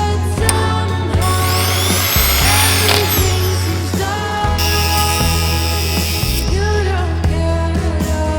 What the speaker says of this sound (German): bohre da mit einem kleinen Bohrer eine Niet raus